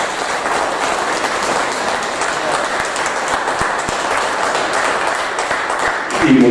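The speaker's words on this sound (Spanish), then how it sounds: "por favor, un fuerte aplauso para ellos porque se lo merecen." A large audience applauds loudly and continuously, a dense even wash of clapping that holds throughout and lifts slightly near the end.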